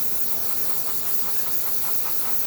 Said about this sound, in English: hitting the steam wand will release the steam from that second boiler